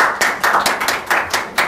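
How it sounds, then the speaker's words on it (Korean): Scattered hands clap to open a presentation at a seminar, about eight sharp, separate claps spaced unevenly, each one crisp and close, with no talk underneath. "박수로 시작하겠습니다."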